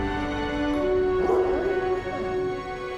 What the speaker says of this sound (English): I don't know where the dog came from.